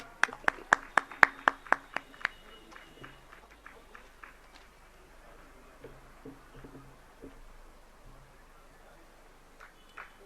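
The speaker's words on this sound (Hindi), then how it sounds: "आप सबकी जोरदार तालियां" Audience applause at a religious discourse session, a brief burst of sharp claps in the first two seconds that thins to scattered faint claps over low crowd murmur.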